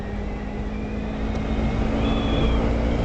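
A motorcycle engine in fourth gear holds around 5,000 RPM with a steady, loud drone that rises slightly toward the end, with no voices over it.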